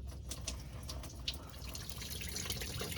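Coolant from an 80 Series Land Cruiser radiator drains out of the fully opened petcock, giving a steady close splashing, trickling flow that runs on without a break and with no voices.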